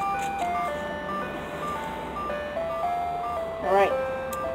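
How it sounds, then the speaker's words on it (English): An ice cream truck plays its repeating tinkly jingle nearby at a steady level, with voices talking over it. "I'll get back with you guys when the ice cream truck leaves"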